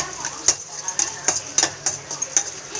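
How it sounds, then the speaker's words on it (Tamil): Onions and tomatoes sautéing in a pan for mutton bone curry, with soft sizzling and a series of sharp spoon-on-pan scrapes and clinks about every half second as the mix is stirred. "அதுக்கு வந்து வெங்காயம் தக்காளியை நல்லா வதக்கி விடணும்"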